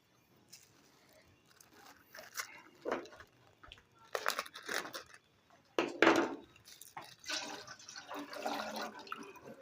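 About 1.5 litres of milk is poured into a cooking pot for a dessert, giving irregular splashing, glugging and pouring bursts, close and moderately loud, with a few clunks.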